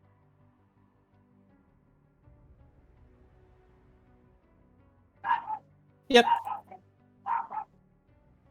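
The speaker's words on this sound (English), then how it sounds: "There's a dog outside. It's being very loud and annoying." A yappy dog outside barks in three short bursts of yips, moderately loud after a quiet stretch of low background, with a brief spoken word nearby.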